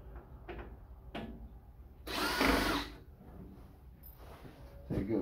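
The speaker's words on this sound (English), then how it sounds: "Take out some of the screws here in the back." A power drill whirs in one loud burst lasting about a second while backing screws out of the rear panel of a broken radio receiver, surrounded by quieter clicks and handling noises.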